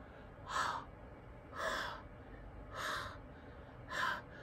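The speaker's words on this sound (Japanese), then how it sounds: "二人の吐息。" Heavy breathing close by: four slow, breathy gasps spaced evenly over several seconds against soft background hiss.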